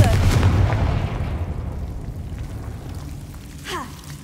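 A Confringo blasting spell explodes in Hogwarts Legacy, a heavy low boom that rumbles and slowly fades over several seconds, with a faint whooshing sweep near the end.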